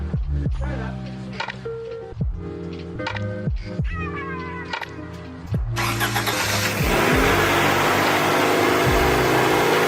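A Honda del Sol's engine starts: a stretch of whirring, uneven cranking and mechanical noise, then it abruptly catches into a loud, dense, steady idle that fills the rest of the moment up close.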